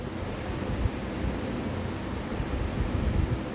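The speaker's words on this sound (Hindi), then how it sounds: "हल्का हल्का ऑनियन फ्राई करते रहना गाइस, थोड़ा हल्का ब्राउनिश होना है" Onions frying with ginger-garlic paste in a pan give off a dense, steady sizzle and hiss that holds at an even level throughout, with no voices over it.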